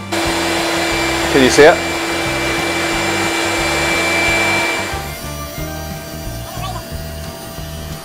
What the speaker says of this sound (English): pushes the wood down on the blade and runs it until the other end of the top meets the stop mark